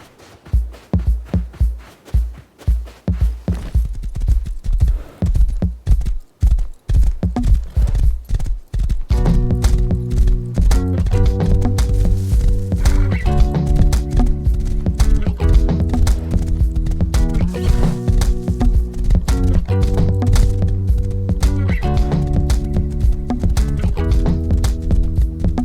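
A horse in the game Rust, loud close hoofbeats clip-clopping in a steady gallop rhythm, joined partway through by a looping tonal music bed.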